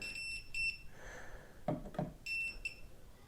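A handheld voltage tester beeps in repeated high electronic tones while held against a live switch circuit during installation of a motion sensor light switch, close and fairly clear with short breaks between beeps.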